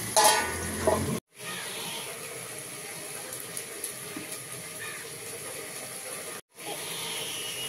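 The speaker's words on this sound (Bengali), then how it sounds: "এবার ভালো করে কষাবো" Chicken kosha being sautéed in a pan, a steady hissing sizzle that runs continuously at moderate level, with two brief dropouts to silence partway through.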